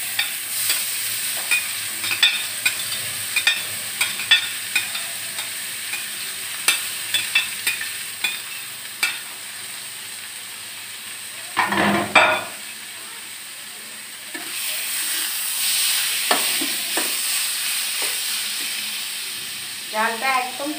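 Taro being stirred and fried in a pan, with repeated clacks of a utensil over a steady sizzle and a burst of louder hissing midway, close and fairly loud.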